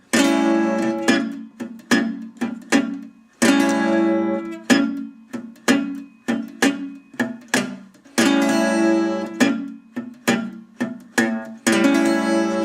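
Acoustic blues guitar plays a song using a dead thumb technique: plucked chords and bass notes strike in a steady rhythm, some left to ring out, played solo and close.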